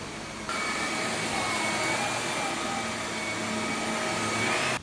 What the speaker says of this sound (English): now she in here vacuuming